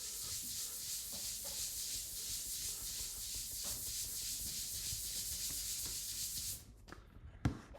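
Dry roughing a Hammer purple urethane bowling ball with a 2000 grit pad: steady rhythmic abrasive rubbing strokes, close and continuous, then stopping abruptly near the end with a soft knock.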